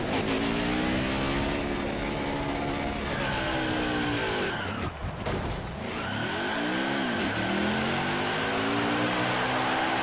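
Loud, sustained engine roar and revving from a NASCAR Craftsman Truck Series race truck doing a burnout after winning at Daytona, with rising and falling pitch sweeps and a brief dip midway before the revving resumes.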